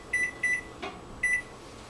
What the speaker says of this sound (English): Set your timer.